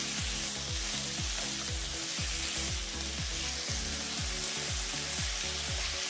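Rosé tteokbokki rice cakes frying steadily in a pan, a constant close hiss and crackle of sizzling with faint rhythmic bubbling running throughout, no voices.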